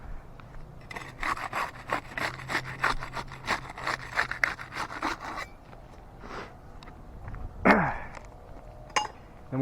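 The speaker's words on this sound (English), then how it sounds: "We started with the putty knife. We'll use that to unseal the top shingle there," A putty knife scrapes and pries under a roof shingle to break its tar seal, giving a run of rough, rhythmic scraping strokes, then a pause and a few sharper snaps and rasps near the end.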